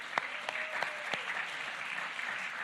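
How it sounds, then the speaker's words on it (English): An audience applauds at the close of a conference, with dense clapping and a few sharper claps near the start that settles into an even, sustained round. "Can we get a huge round of applause?"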